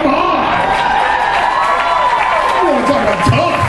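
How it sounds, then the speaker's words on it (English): A convention crowd at a costume contest cheers, whoops and applauds an entrant, a loud, dense roar of voices and clapping that stays strong throughout, with shouting mixed in. "you should be applauding not only for the costume, but the fact that somebody's walking around in A flat and A heel"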